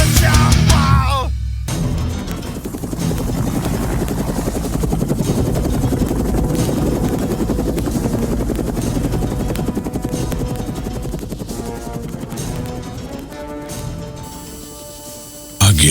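A loud chopping helicopter rotor sound effect drives through a brutal metal song, its rapid pulsing blades blended with heavy distorted music and shouted vocals for most of the stretch.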